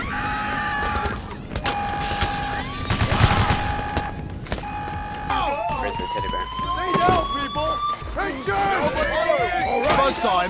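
Gunfire and chaotic action from the heist video game Payday: The Heist, with sirens wailing and bursts of shots mixed into a busy game soundscape, steady and loud throughout.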